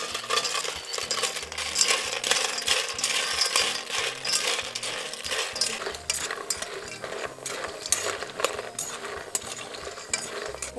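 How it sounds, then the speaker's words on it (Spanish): Thin noodles toast in a pot for a Bolivian noodle stew, with a continuous close sizzle and scraping stir strokes that rattle and clatter against the metal in a steady, uneven rhythm. "Vamos a tostar los fideitos."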